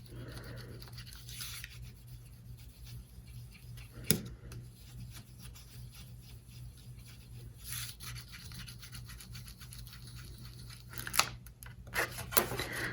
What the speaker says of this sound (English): Just burnish it well on both sides so it catches